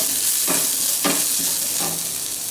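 Chopped green chillies dropped into hot oil with cumin for aloo fry, a strong continuous sizzle broken by several short stirring scrapes, close and loud with no speech.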